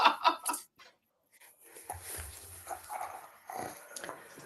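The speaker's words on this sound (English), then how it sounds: "Hannah's dog sounds like Ben on the coach back from the Oasis gig." A dog close to a microphone gives a few short yips and whimpers at the start, then breathes and snuffles softly, with low rustling after a brief silence.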